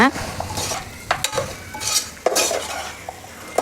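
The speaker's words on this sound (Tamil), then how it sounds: "தக்காளி ஆட் பண்ணி நல்லா கிளறி விட்டுக்கோங்க" Tomatoes being stirred into a sizzling ginger-garlic base for mutton kulambu, with a steady fry hiss under repeated spoon scrapes and clinks against the pan.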